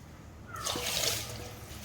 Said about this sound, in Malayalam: നമ്മുടെ പുലാവിനകത്തേക്ക് ഞാൻ 2 കപ്പ് വെള്ളം അളന്ന് വെച്ചിട്ടുണ്ട്, അതാണ് ഒഴിക്കുന്നത്